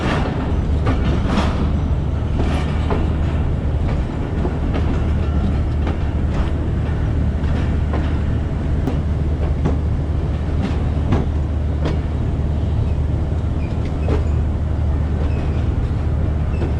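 The 45UP Pakistan Express, running from Multan to Rawalpindi and departing Faisalabad, rolls along the rails with a loud, steady low rumble. Irregular wheel clicks and clanks sound throughout, and no voices are heard.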